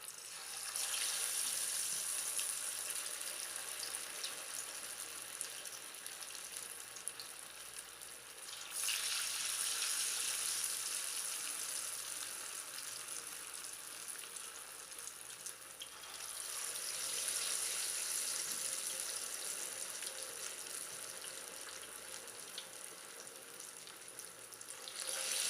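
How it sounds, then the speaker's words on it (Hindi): Potato kababs sizzle steadily in hot cooking oil, a dense, hissing crackle that swells louder in two waves as more pieces go into the pan, with no talking. "इस तरह हम एक एक कबाब करके इसके अंदर डिप करेंगे और डिप करके हम कुकिंग ऑयल के अंदर डालते जाएंगे"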